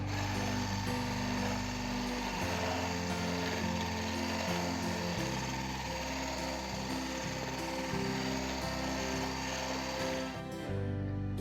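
A mixer beats 75 grams of butter in a mixing bowl, giving a steady close mechanical whirring and rattling that runs continuously with a few shifts in tone and stops near the end.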